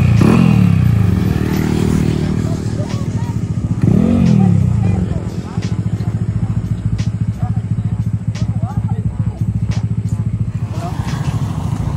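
A motorcycle engine revs hard with the throttle opened, two loud surging rises and a rattly idle between, with voices talking over it.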